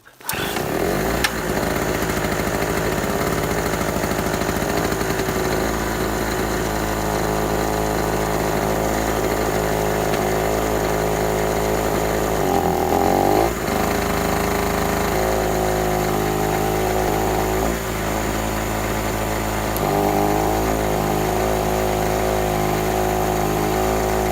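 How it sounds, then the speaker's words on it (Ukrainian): A two-stroke petrol generator runs steadily while warming up, a loud, close, buzzing drone with brief dips and surges in engine speed, no voices. "Заводимо генератор, даємо йому трошки прогрітися."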